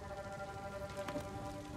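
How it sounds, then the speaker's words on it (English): Steady rainfall in the Ghost of Tsushima video game, a soft continuous patter of drops on the ground and grass, with a brief brighter splash partway through and no talk. "Man, this rain. Look at this rain, man."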